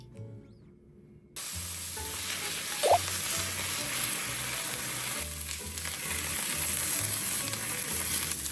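Meatballs frying in a pan in a home kitchen give a loud, steady, close sizzle that starts abruptly after a quiet moment and carries on evenly, with one brief clack partway through and no talking.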